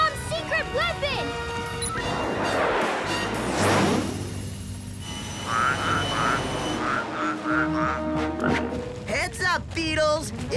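Loud, repeated croaking from cane toads in a cartoon, overlapping with excited voices and cartoon music, with a crash of noise partway through.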